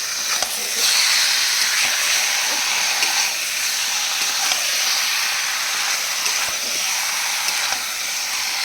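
Chicken pieces hitting spiced masala in a hot pan produce a loud, steady hiss and sizzle that runs continuously, with faint scraping underneath.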